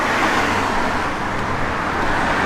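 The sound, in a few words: 1969 Plymouth Road Runner with Flowmaster dual exhaust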